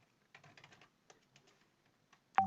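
Quiet bursts of computer keyboard typing, a quick cluster of keystrokes followed by a few scattered taps, then ending on one louder sharp click.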